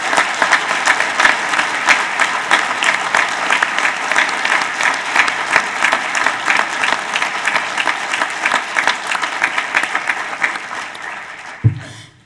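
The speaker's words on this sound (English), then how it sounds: "please join us in a round of applause for our graduates" A large crowd at a graduation ceremony claps steadily and loudly for about eleven seconds before the applause fades out, ending with a single low thump.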